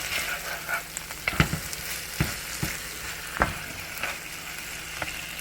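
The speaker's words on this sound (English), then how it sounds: "now we're gonna stir that up. Get it cheesy in there." Cheesy sloppy joe mixture sizzles and fries in a pan while a utensil stirs it, with intermittent scraping clacks over the steady crackle, close and moderately quiet.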